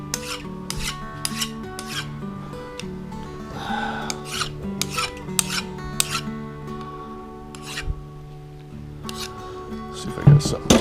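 Sandpaper rubs over a rocker shaft in repeated rough, rasping strokes, close and fairly loud, with a few sharper scrapes near the end.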